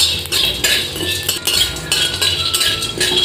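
Fried rice ingredients are stirred in a pan, with a metal utensil repeatedly scraping and clinking against the pan in a quick irregular rhythm, close and clear, without talk.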